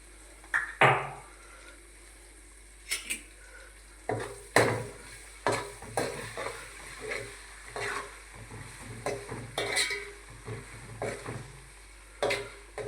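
Ginger and chili paste stirred and frying in a pan, heard as a run of scraping, clinking spoon strokes against the metal with a soft sizzle beneath, close and alone.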